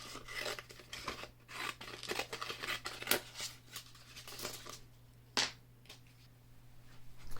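Scissors snip away leftover infusible ink sheet, a series of close, crisp cutting and rustling sounds with irregular snaps and a brief louder slice.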